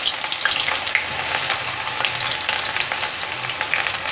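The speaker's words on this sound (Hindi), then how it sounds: "हमारा ऑयल गर्म हो गया है इसमें हम प्याज डाल देंगे" Onions frying in hot oil on a home stove, a steady crackling sizzle with small pops that continues evenly throughout.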